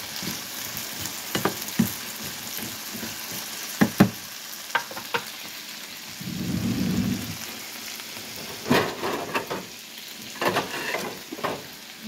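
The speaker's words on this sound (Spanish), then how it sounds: "Friéndose con aceite, cebolla, pimienta." Potatoes frying in oil with onion and pepper crackle with scattered sharp pops and a few louder bursts, alongside a short low rumble of stirring, with no one speaking.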